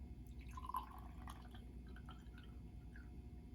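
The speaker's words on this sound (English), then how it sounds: "You're going to tip the pitcher so the lip of the pitcher touches the glass, and then you're going to pour" Water poured from a tipped pitcher into a glass makes soft, faint trickling and dripping sounds over a low steady hum, with a brief brighter splash early on and no voices.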